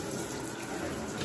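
Water runs steadily from a tap onto a cleaning cloth during household cleaning, a continuous close hiss and splash with no talk.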